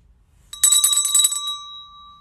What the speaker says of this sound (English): You should never gave Grandma that bell.